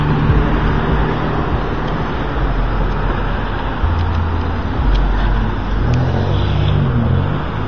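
Traffic idling and rumbling at the Frankfort and Cheltenham Avenue intersection while waiting for green, a continuous loud low engine drone heard from inside a vehicle, with a heavier rumble building near the end.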